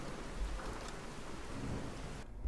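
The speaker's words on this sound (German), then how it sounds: "Die Mod ist schon geil mit dem Gewitter." Thunderstorm weather from a Fallout 4 mod: constant heavy rain hissing with a low rumble of thunder, steady and enveloping, with no talking, and the sound cutting away at the end.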